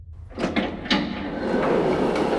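A door opens in the video game Garten of Banban IV with a few sharp mechanical clunks, followed by a steady sliding rumble that fills the rest of the moment.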